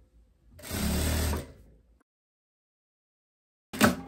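A sewing machine stitches a narrow half-centimetre hem on linen in a short run of about a second, then goes quiet. A brief mechanical burst comes near the end.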